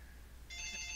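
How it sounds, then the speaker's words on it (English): A phone starts ringing partway through, a bright electronic ringtone with stacked steady tones that sounds loud and close over a quiet background. "And there's my phone."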